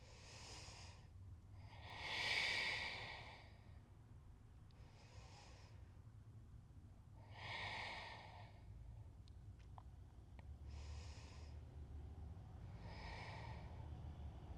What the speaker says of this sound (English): we breathe here